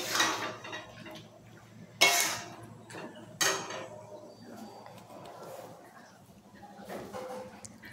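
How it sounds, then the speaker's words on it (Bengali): Spices sautéed in a pan for a curry, a metal spoon clanking and scraping against the pan in a few sharp, irregular strikes amid quieter stirring, close by, with some soft background sound between the hits. "তো এখন কষা চলছে, ভালো করে কষিয়ে নিচ্ছি"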